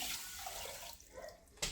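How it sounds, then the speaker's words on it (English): Two cups of water pour steadily into a cooking pot of millet risotto, a continuous close splashing rush with a slight knock near the end. "I have my 2 cups of water, and then I'm putting that in."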